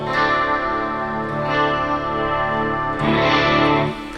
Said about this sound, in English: The guitar just open string sounds like this.